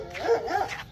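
A dog at close range gives a short, whiny yip or bark, a brief rising and falling vocal burst lasting under a second.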